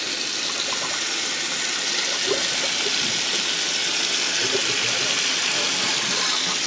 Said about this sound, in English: So let's run some water first